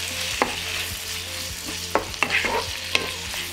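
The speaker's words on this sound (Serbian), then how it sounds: "Promešat ću i sve ću ovo propržiti." Vegetables frying in oil in a pan sizzle under several sharp scraping knocks as a spoon stirs them, the strokes coming in a loose, uneven rhythm over a steady hiss.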